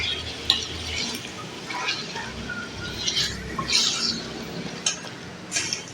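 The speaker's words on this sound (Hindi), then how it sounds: "15 से 20 मिनट मैं इसको फ्राई करूँगी, गोश्त को अच्छे से।" Mutton fries in a karahi over medium-high flame with a steady, close sizzle while a utensil stirs and scrapes the pan in scattered strokes.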